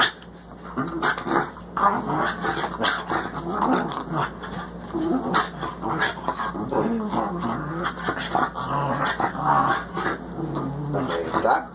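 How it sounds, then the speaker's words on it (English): A pug growls and whimpers with soft yips and panting, close and fairly loud throughout, while a person talks over it. "You're a dog"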